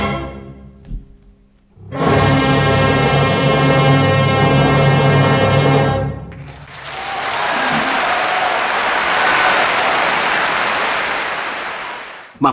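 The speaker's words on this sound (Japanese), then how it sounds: "終演後の拍手と歓声は熱烈なものです。" Concert hall audience in Paris breaking into loud, fervent applause after a Furtwängler-conducted Beethoven Fifth Symphony, a held orchestral final chord ending before a sustained wash of clapping and cheering from a large crowd.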